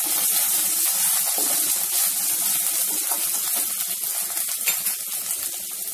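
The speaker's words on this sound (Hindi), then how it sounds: "सेम टाइम पे हम इसमें अदरक लहसुन का पेस्ट डालेंगे। एक 2 सेकेंड के लिए इस तरह से इसी के साथ भून लेंगे इसे।" Onion with ginger garlic paste frying in a pan for paneer lababdar, a steady close hiss of sizzling with faint crackles running throughout.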